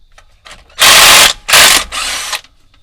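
A pneumatic impact wrench removes nuts during disassembly on a Toyota Tundra, firing three loud close bursts of rattling hammering, the last one longer, with short gaps between.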